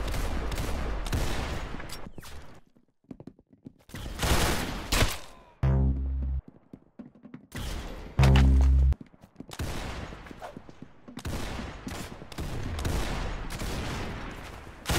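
Gunfire rattles in the Arsenal video game, with loud bursts and volleys of shots separated by brief lulls and a few heavy, booming impacts.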